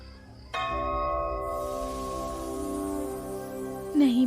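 A bell hanging on a banyan tree is struck once, ringing out bright and clear and then fading slowly as a long, resonant tone, followed by a brief higher sound right at the end.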